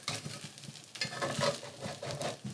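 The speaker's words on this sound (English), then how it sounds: "We use one flat spatula and another spoon and just flip it." Kuku, a Persian herb omelette, cut in four pieces and flipped in a pan with a flat spatula and a spoon: soft, quiet sizzling with light scraping and taps of the utensils.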